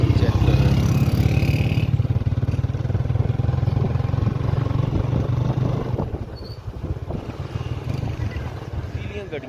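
Motorcycles pass along a road on Eid, their engines a loud, near drone that fades somewhat after a few seconds, with wind buffeting the microphone.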